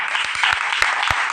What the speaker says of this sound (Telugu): కొట్టండి చప్పట్లో